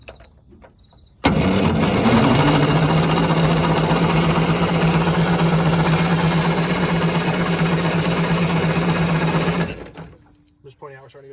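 A GM Silversides bus's Detroit Diesel 6-71, started for the first time in many years, cranks and catches, then roars at a loud, steady idle for about eight seconds before cutting off abruptly, with brief voices nearby.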